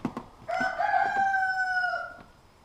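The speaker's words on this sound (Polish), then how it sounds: "koguty dopiero pieją" A single rooster crows once, a long drawn-out call that rises and fades, moderately close against a quiet background.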